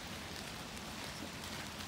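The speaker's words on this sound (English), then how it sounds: "it's raining here" Steady rain falls outdoors in Avesta, Dalarna, a soft, even hiss of drops on surfaces that stays faint and continuous throughout, with no voices.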